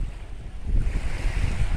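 Sea waves at Tali Beach in Batangas, a continuous rumbling wash of surf mixed with gusty wind buffeting the microphone, loud and close.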